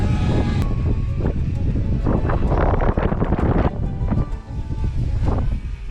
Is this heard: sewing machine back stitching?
no